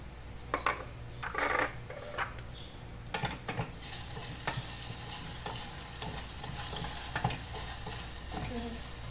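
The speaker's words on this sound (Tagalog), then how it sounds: "Lalagyan ko siya ng oyster sauce" Hainanese rice being stir-fried in a pan with oyster sauce, with steady sizzling under scraping and clinking of a spatula against the pan in irregular bursts.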